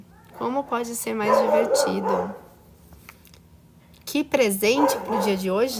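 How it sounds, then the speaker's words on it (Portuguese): Dogs bark and yip somewhere nearby while someone talks in Portuguese over them, the barking mixed in under her voice. "Vocês estão escutando os cachorros latindo por aí?"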